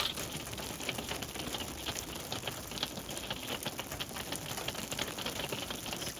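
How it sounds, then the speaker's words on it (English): Dense, steady rain mixed with hail pelting down during an Arizona storm outdoors, a continuous loud crackling patter of many impacts with no pauses and no voices. "Not only is it raining, but it's hailing now."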